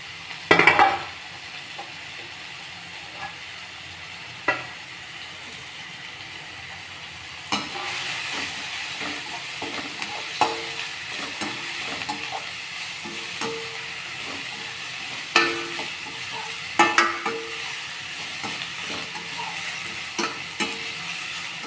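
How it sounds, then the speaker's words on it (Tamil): Bitter gourd is sautéed with half-softened tomatoes in a pan for thokku, making a steady, moderate sizzle punctuated by repeated scraping and tapping of a stirring spoon, louder after the first few seconds. "தக்காளி பாதி அளவு வதங்கிடுச்சு இப்போ பாவக்காயும் அதில் சேர்த்துக்கலாம்"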